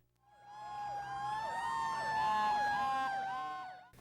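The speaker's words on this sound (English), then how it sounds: "Sirens rang out yesterday at Lehigh Valley Hospital Hazleton" Loud wailing emergency vehicle sirens sweep up and down in pitch at Lehigh Valley Hospital Hazleton, sustained for several seconds, with more than one siren tone overlapping before cutting off.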